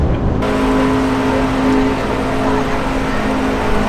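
A Chevrolet Silverado pace truck on the Daytona 500 track, engine roaring steadily and loud at high speed with a constant droning tone, no talk heard.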